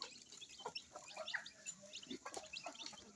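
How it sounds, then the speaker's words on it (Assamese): Hens on a poultry farm, including a main laying hen, cluck softly in short, scattered bursts with faint chirps, quiet and somewhat distant in a calm setting. "এইটো আমাৰ ঘাই ডাকুৱা মুৰ্গী"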